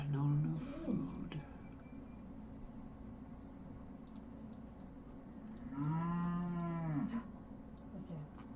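Cattle mooing in a Sumerian city-building video game, two drawn-out low moos, one near the start and another later, over a steady background hum.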